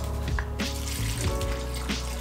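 Water is poured from a tap into a cooking pot with broth and seasonings, a steady close rushing and splashing that runs without pause and with no voices.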